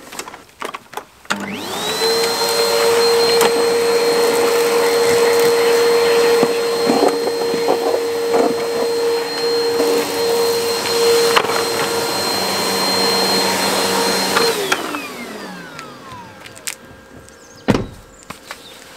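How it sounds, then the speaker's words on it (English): A Hoover vacuum cleaner running off a Jackery Explorer 1000 portable battery starts up, drones steadily with a high whine for about thirteen seconds, then winds down, with bumps and knocks before and after. "One hoover, one power supply, and away we go."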